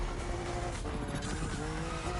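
A drift car in the racing game The Crew Motorfest slides with a sustained tire squeal over a droning engine, loud and continuous for a couple of seconds with no talking.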